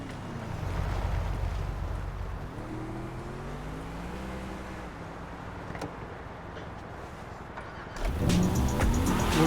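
Engine of a car in GTA 5, said to resemble a Bugatti, drones and shifts pitch steadily throughout, growing louder with a rush of noise near the end.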